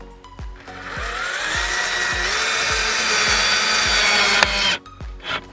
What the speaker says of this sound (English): You just need to get a couple of little screws to just screw in top and bottom.